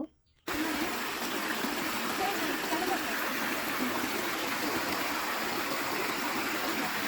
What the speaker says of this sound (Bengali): পাহাড়ের ঢাল বেয়ে আসা পানিগুলো বয়ে চলছে নদীর মতো, প্রচুর স্রোত ছিল